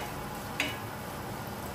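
Onion with ginger garlic paste frying in a small amount of cooking oil, a steady close sizzle with a faint stir or scrape partway through.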